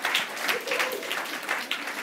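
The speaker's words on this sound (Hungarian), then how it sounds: "Tapsoljuk meg a Danit is." Audience applause breaks out during a live demonstration, a steady dense patter of clapping across the whole moment with faint voices mixed in.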